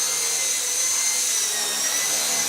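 Small Eachine E130 RC helicopter in flight, its rotor giving a steady, continuous high-pitched whine and buzz that holds level for the whole stretch, with no voices.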